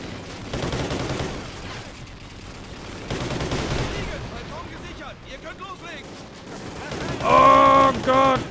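Gunfire in the Call of Duty: Ghosts campaign, a steady run of close shots and rattling bursts through most of the stretch, loud and busy, with a player talking over it and an electronic tone near the end.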